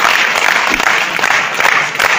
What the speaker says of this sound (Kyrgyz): сыймыктанып кол чабып коюңар